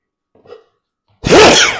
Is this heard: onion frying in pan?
no